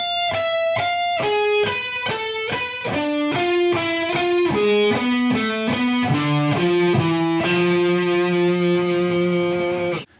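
A distorted electric guitar slowly plays an alternate picking exercise, each picked note distinct in a steady descending pattern across the strings, close and loud, ending on a long sustained note with no speech.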